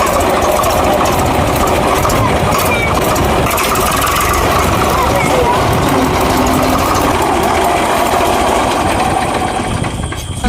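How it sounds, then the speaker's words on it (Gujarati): A tractor engine idles nearby, loud and continuous with a steady rumbling chug, while faint voices and outdoor village sounds carry underneath. "આ એટલે કોણ ટ્રેક્ટર લઈને આવી?"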